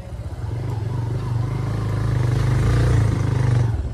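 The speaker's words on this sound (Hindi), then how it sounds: "अब चढ़ते हैं हम इसके ऊपर, ये घाट पे आ गए हैं, झुनकी घाट। इधर ही चढ़ाओ पहले गियर में करके।" A motorcycle climbs in first gear up to Jhunki Ghat in Ayodhya, its low engine drone swelling steadily and close by for a few seconds.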